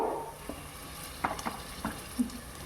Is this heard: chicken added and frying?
yes